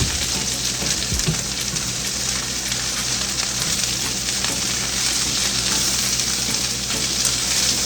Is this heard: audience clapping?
no